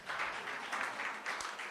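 Short burst of audience applause at a venture capital panel, faint and somewhat distant, steady clapping in loose waves for under two seconds.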